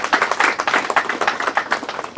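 Small indoor audience clapping in congratulation, a brisk burst of many hands with rapid uneven claps, close and fairly loud, running for a couple of seconds without talk.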